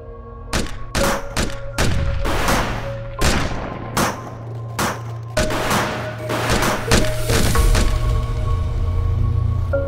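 Gunshots in a film, a series of loud, sharp reports in an irregular volley with boomy thuds between them, close and dominant over a low rumbling background.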